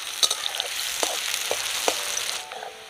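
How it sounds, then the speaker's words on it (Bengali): Sliced onions sizzling in oil in a kadai, fried until deep red for egg biryani birista. The steady crackle stays close and constant, with occasional stirring scrapes, and fades slightly at the end. "পেঁয়াজগুলো ভালো করে একদম লাল লাল করে ভেজে নিতে হবে।"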